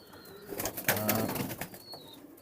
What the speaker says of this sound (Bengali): এখানে সব ভালো কোয়ালিটির কবুতর